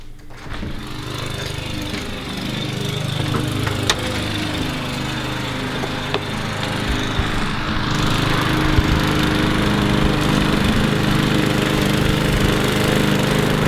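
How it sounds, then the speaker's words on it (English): Lawn mower mowing a lawn, a loud continuous engine drone close by that grows slightly stronger partway through, with no talk. "I'm mowing the lawn"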